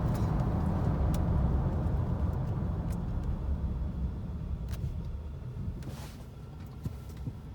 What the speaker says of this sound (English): Let's take it for a drive, see how it does.